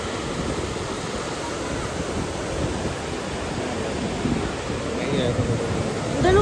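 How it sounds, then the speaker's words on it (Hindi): Lingmala waterfall at Mahabaleshwar, below a dam, gives a steady broadband roar of rushing water that swells slightly toward the end. "ये रहा लिंगमाला वाटरफॉल।"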